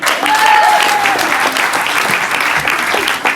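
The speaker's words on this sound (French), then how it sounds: "On peut l'applaudir, s'il vous plaît." An audience at a family church service breaks into applause for a child's drawing, a dense burst of clapping that fills the room throughout, with a brief voice in the middle.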